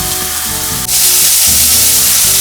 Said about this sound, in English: There it goes, sizzling.